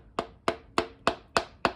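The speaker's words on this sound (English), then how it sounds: "The back side of the hammer." A 440 Mopar V8 piston being tapped into the engine block with the back of a hammer: six light, evenly spaced knocks with a hard wooden-tinged attack, close and clear with no talking.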